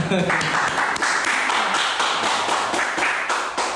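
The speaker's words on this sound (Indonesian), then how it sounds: "Tepuk tangan dulu dong" An audience gives applause to welcome a new guest during a Teacher's Day podcast, a brisk run of steady, close clapping that carries on throughout.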